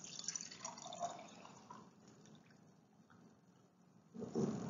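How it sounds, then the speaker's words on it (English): Water trickles faintly as it is poured from one drinking glass into another, a soft, steady liquid sound that swells into a brief louder splash near the end, with no talking. "When I pour it into the other glass,"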